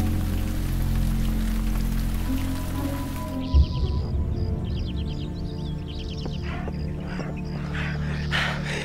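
Rain falls steadily in a film scene set in a rural Chinese town, a dense close patter for the first few seconds that then thins into scattered drops amid quieter outdoor ambience with faint bird calls.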